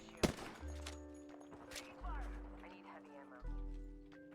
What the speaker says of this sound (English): So you are shooting from a low ground position right now.